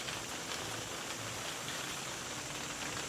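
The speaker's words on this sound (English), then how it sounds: "And is it raining?" Rain falls outside in a steady, even hiss that fills the whole stretch, no breaks or voices over it.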